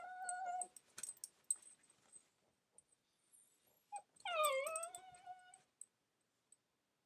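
A dog in a backyard gives short whimpers early on, then a louder, longer drawn-out whine in the middle, with quiet gaps between.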